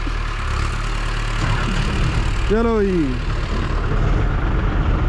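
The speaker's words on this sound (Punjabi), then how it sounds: "ਦੇਖੋ ਕਿੱਦਾਂ ਜਾਂਦਾ ਟਰੈਕਟਰ" A Farmtrac tractor's engine drones steadily and close as it sets off through a muddy field during corn silage work, with a short spoken remark over the rumble.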